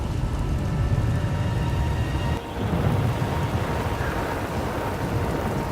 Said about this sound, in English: The storms are fierce today.